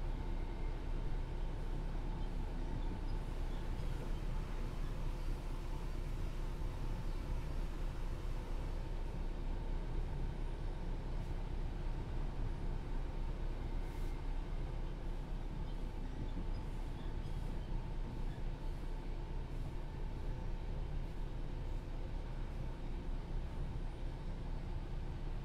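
A simulated train in Train Sim World 3 runs along the Southeastern Highspeed line while cleaning the tracks, giving a constant low rumble and rolling drone that stays steady and moderately loud for the whole stretch.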